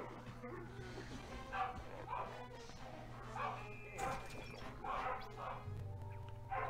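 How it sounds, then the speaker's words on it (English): Dogs barking in a video game: a few sharp yips and barks pop out over steady game music and background hum, mid-distance and moderately loud, with a person talking throughout. "Great, now all the dogs are gonna go off."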